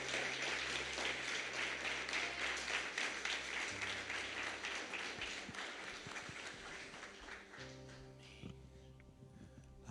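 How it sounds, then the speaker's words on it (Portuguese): A church congregation at a Wednesday evening service applauds with a steady wash of clapping that gradually thins and fades, while a low organ or keyboard drone sustains underneath and shifts pitch toward the end. "Uma salva de palmas para Jesus."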